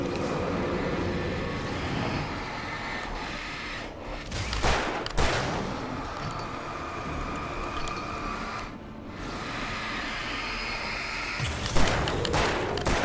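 Repeated gunshots and bursts of fire ring out in the video game Alan Wake Remastered, loud and echoing over a dense rumbling game backdrop, with a few sharper blasts standing out.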